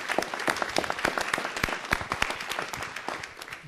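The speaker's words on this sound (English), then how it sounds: "I want to give them an applause again for their hard work" A city council meeting audience applauds a church Relief Society, dense steady clapping from a room of people throughout, fairly loud and close.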